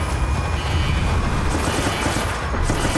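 Sustained, dense gunfire in Resident Evil: Operation Raccoon City, a continuous loud rattle of rapid shots filling the whole stretch without pause.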